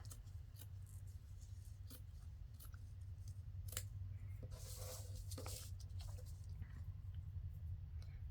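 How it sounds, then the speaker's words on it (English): Scissors trim excess fabric from scrap window pockets, giving a series of faint, quick snips and crisp cuts, some clustered together, over a quiet low background hum. "let me try to trim some of the excess off"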